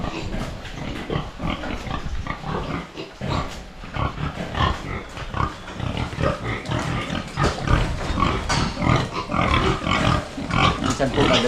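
Pregnant sow on a farm grunting in repeated short, rough bursts throughout, close and fairly loud with no talking.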